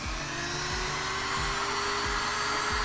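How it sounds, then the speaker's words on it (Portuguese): A small drill bores a hole into a printed circuit board, giving a continuous high-pitched whine over a low motor hum with faint periodic pulses, brief and alone. "você vai escolher um ponto aqui no canto dela e vai fazer um pequeno furo"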